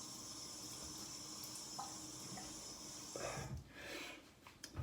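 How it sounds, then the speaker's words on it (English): Water splashes at a sink as a face is wetted before a wet shave, a soft running-water hiss followed by a few closer splashes and sloshes near the end, with no talking. "And we'll just wet the face and get going."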